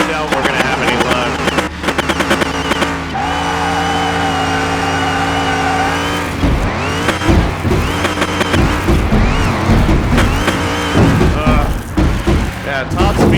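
King Cobra Mustang drag racing in Car Mechanic Simulator 2021, its engine droning steadily at high revs before surging through rapid pitch sweeps and gear changes, loud and close, with someone talking over it.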